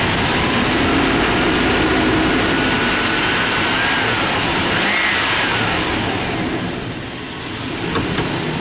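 Engine of a 1999 Chevrolet Tahoe revving up, a loud, steady roar close by that holds high for several seconds and then eases slightly before rising again.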